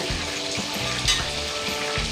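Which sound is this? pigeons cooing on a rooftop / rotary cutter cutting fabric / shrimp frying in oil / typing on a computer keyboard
shrimp frying in oil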